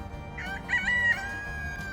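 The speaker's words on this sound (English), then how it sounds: "nice to have the rooster providing some sound effects in the background" A rooster crows once in the background, a short harmonic cock-a-doodle rising over steady low ambient noise.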